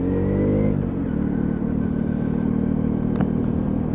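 A Lexmoto Riot motorcycle engine runs loud and close with a rough, buzzy mid-range drone, briefly rising in a rev before settling back to a steady throbbing idle, with a small clack near the end.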